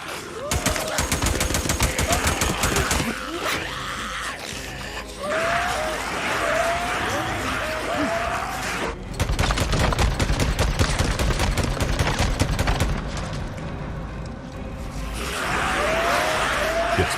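Sustained SMP9 submachine-gun fire in the video game Days Gone, loud rapid bursts running nearly continuously with brief pauses, mixed with groans and cries.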